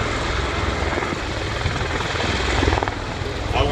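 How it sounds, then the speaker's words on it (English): Orseary tiltrotor aircraft hovering at an air show in Singapore, a steady loud rotor and engine roar that holds without a break, close and filling the scene. "the aircraft is now turned into the wind and will execute a backwards hover to conduct a vertical takeoff like a conventional helicopter."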